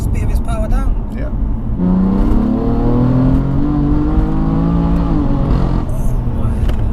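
A BMW F80 M3 at full throttle roars close by, its engine note climbing steadily through the rev range with a brief shift, loud and sustained, with voices heard briefly at the start.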